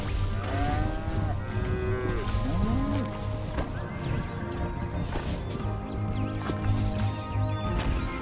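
A cartoon cow moos repeatedly in the space video game Moo Lander, loud bellowing calls layered over steady game background noise and explosion-like rumbles.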